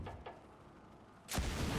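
A cannon in a Destiny 2 dungeon fires with a sudden heavy boom near the end, after a couple of faint earlier clicks and a low steady game background.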